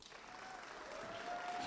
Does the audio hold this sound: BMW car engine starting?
no